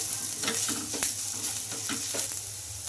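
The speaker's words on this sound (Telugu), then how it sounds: "ఈ పసుపు కూడా వేసేసుకొని కొంచెం పచ్చివాసన పోయే వరకు ఫ్రై చేసుకుందాం" Onions frying with turmeric in a pan, a continuous close sizzle with rhythmic spoon stirs and scrapes every half second or so, no talking.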